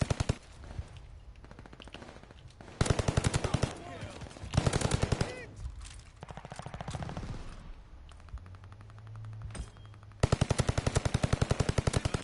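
Rapid automatic gunfire in Call of Duty Vanguard, loud bursts of evenly spaced shots that stop and restart several times over a steady game background, with brief lulls between volleys.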